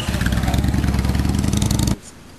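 A Harley-Davidson Sportster motorcycle engine chugs in a loud, rapid pulsing rhythm close by for about two seconds, then cuts off abruptly to near quiet, at a Sportster meeting in Kobe.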